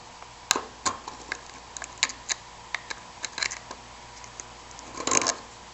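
Knife or blade cutting through a foil cover on the wheel of a 2012 4500 boat hoist winch, a string of short crisp snips and ticks, close and fairly quiet, ending in a louder burst of crinkling.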